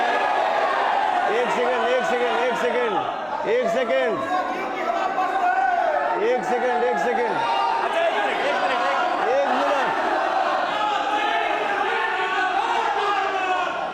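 A crowd of fans gathered to see Pawan Singh keeps up a steady murmur of chatter, with a voice talking up close over it.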